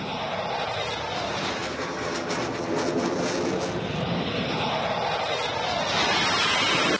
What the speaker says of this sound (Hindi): गंगा एक्सप्रेसवे पर गरजे इंडियन एयरफोर्स के लड़ाकू विमान।